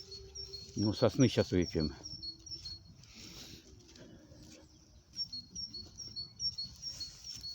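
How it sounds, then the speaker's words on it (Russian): Small bird singing outdoors near pine trees, thin high chirps repeating faintly through the clip behind a man's nearby speech. "О, птичка поет."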